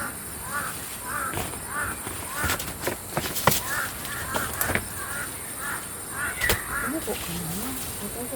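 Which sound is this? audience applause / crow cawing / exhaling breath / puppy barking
crow cawing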